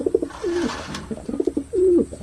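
Pigeons coo close by in a loft in soft, throaty bursts, two rolling calls repeating over a quiet background.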